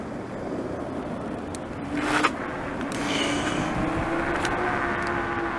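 A Halo Knight T107 Pro electric scooter accelerates, its close motor whine climbing and holding steady over road noise, with a brief scrape partway through.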